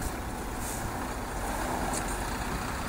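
A Moscow city bus on route 607 rumbles steadily from inside the cabin, a continuous low engine drone with brief hissing bursts from the air brakes.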